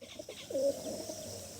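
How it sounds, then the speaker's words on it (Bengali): A male pigeon gives a soft, low coo, a short throaty call heard once or twice at close range over quiet background noise. "এটা নর পায়রা আছে"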